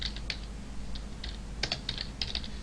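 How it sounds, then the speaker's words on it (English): Code being typed on a computer keyboard: scattered crisp key taps in short runs and isolated strikes, close-miked over a low steady background hum, with no voices. "Let me make sure I type this right."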